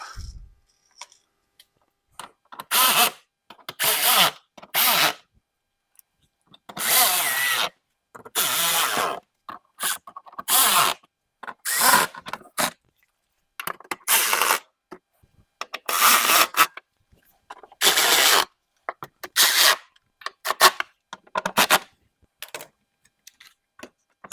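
A power tool drives screws into the fender liner of a BMW X5, firing in a long series of short, loud whirring bursts with brief gaps between them and no talking.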